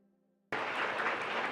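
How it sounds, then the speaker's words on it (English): Applause from the audience at the 2025 Gyeonggi Women's International Forum bursts in suddenly after a quiet moment, a dense, loud wash of clapping that continues steadily to the end. "Please give a big round of applause."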